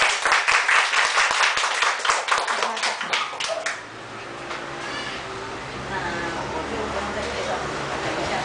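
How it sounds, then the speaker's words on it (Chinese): An audience at a public lecture on dance claps warmly to welcome the speaker, a dense burst of hand claps lasting about four seconds before thinning out into a quieter room with faint talk. "我们是不是借用各位伙伴热情的掌声，"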